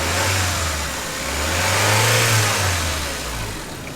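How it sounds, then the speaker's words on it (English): A car engine is revved repeatedly, up close. The low drone swells and sags in slow waves over a steady idle, loud, with no talking. "Yeah, rev it."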